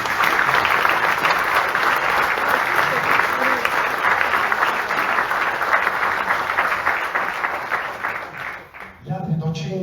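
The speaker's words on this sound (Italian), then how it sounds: "Un applauso." An audience applauds at a ceremony naming Sardinian music ambassadors in Nuoro, with dense sustained clapping for about eight seconds that then dies away as a voice begins speaking.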